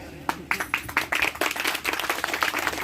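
A loose, uneven round of clapping from the crowd at a Rathore community event for Durgadas Rathore's birth anniversary, individual claps standing out at first before thickening into a steady patter.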